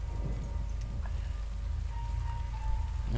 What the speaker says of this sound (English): one of the few gripes so far is that it rains every single day